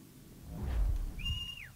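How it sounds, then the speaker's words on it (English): A horse whistle in Assassin's Creed 3 gives a single sharp, high whistle that holds steady and then bends downward, preceded by a soft rustle and a low thump. "I'm gonna get my horse whistle."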